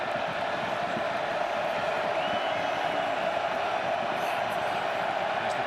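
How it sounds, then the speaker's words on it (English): College football stadium crowd at Rutgers versus Iowa, a steady broad roar of many distant voices, sustained and even throughout beneath faint background murmur. "As the crowd gets loud,"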